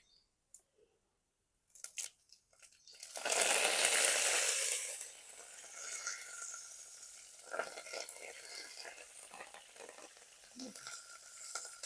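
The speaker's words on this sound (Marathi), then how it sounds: "आता टाकायचा आपल्याला हिरवा कडीपत्ता" Green curry leaves drop into hot oil with popped mustard seeds and cumin, bursting into a loud crackling sizzle that settles into steady spluttering and frying, heard close up without talk.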